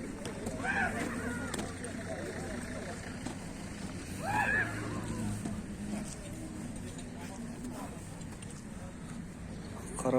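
At an outdoor horse market, a horse whinnies twice, each call short and fairly near, amid steady crowd chatter and general bustle.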